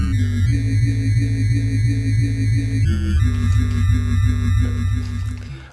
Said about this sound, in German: bestehend aus einem Oszillator und einem Cut-Off.